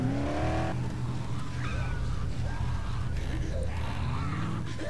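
A car engine revs steadily with tires squealing and skidding in the video game Dead Island, a loud continuous roar with a muffled voice briefly underneath.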